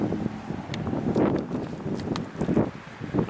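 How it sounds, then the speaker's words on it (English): Gusty outdoor wind buffets the microphone beside a 1989 Ford Bronco II, a rumbling, uneven low roar with rustling surges and a few scuffs. "I know it's a little bit windy out here today"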